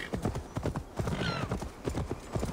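A horse arrives in the video game Assassin's Creed Valhalla, its hooves clip-clopping in a quick, steady rhythm close and loud, with a brief whinny partway through.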